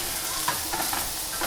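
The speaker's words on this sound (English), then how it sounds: "Be careful though when you're adding anything to hot fat. You can hear that sizzling." A vegan stir fry sizzles loudly in hot fat, a dense crackling hiss with small pops throughout the short stretch, close by and without speech.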